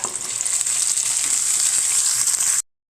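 Ivy gourd pieces, tomatoes and onion sizzle in a hot pan, a steady loud frying hiss with faint stirring, cutting off abruptly near the end.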